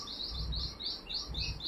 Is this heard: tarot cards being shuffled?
no